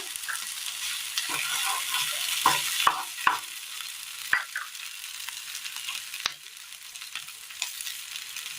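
Eggplant and onion sizzle and fry in a pan, a steady bright hiss broken by a few sharp stirring scrapes and clicks, close and alone without talk.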